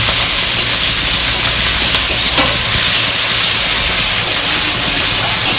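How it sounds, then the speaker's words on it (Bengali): Potatoes being stirred and fried in a hot pan for chira pulao give off a loud, continuous sizzle with soft scraping from the stirring, close and steady throughout with no talking. "এটাকে সুন্দর করে নাড়াচাড়া করে দিতে হবে, একটু ভাজা ভাজা করতে হবে"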